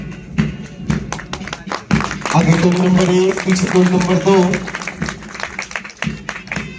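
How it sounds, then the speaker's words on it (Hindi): Spectators at a police parade rehearsal clap in scattered bursts while an announcer speaks over a loudspeaker, with a sustained stretch of continuous applause in the middle. "आप सभी इनकी हरकतों पर अपनी जोरदार तालियों से इन्हें"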